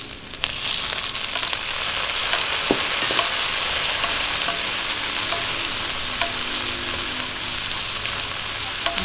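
Onion and tomato sauté in a hot frying pan for picadillo, giving a steady, close sizzle throughout with occasional stirring clicks and scrapes of a utensil against the pan.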